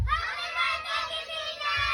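Children at a birthday party shouting together in a short, loud burst, a small crowd of young voices calling out at once.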